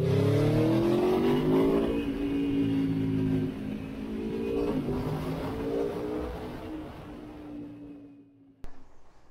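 A motorbike pulls away on the Isle of Man, its engine rising through gear changes as it recedes, the sound fading steadily into the distance before near silence and a final knock.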